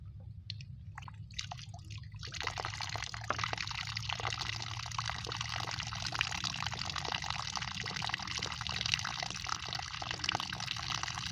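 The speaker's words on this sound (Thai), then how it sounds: "น้ำไหลน้ำไหล" Water pours and trickles out of a fish trap bucket, a steady splashing flow that starts after a couple of quiet seconds and continues faintly but evenly, with no talking.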